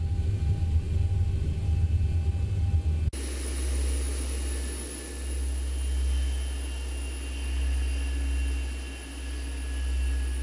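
Steady roar of Boeing 737-800 jet engines during a flight-simulator landing, a continuous low rumble swelling and easing in slow waves, alone with no talk.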